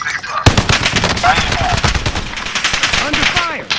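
Rapid automatic gunfire from the video game Call of Duty: Modern Warfare rattles loudly and continuously through the whole stretch, with a burst of intense firing and a few whooshing effects layered in.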